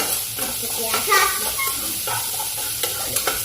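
A green chili fries in hot oil in a pan while shavige uppittu is being made, giving a close, steady sizzle and hiss with small stirring and clinking sounds.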